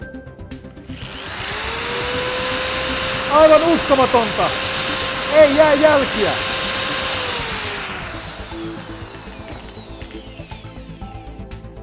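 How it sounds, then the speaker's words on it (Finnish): An electric drill whines continuously against a phone screen protector, a loud close motor drone with rising and falling grinding bursts partway through, while a voice speaks excitedly over it near the end. "Entäpä pora? Päräyttää oikein sähköporalla."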